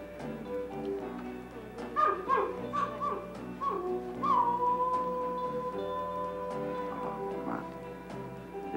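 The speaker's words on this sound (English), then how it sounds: "Just an old mutt howling." An old mutt howls and whimpers in drawn-out, rising and falling wails, fairly close and clear, with a steady low hum underneath.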